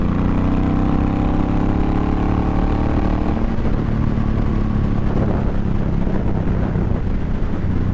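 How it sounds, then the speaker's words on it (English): A Suzuki Boulevard M109R motorcycle engine drones steadily while being ridden, a loud continuous low rumble with wind noise that holds throughout and shifts slightly in pitch partway through. "I'm just gonna let y'all hear this motorcycle."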